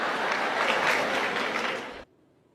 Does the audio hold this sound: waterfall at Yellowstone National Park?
no